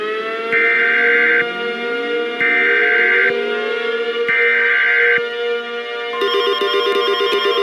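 Emergency alert warning siren for an EAS scenario, loud and close, with a wavering tone repeating in three even pulses over a steady drone before shifting into a harsher buzzing alarm pattern at the end.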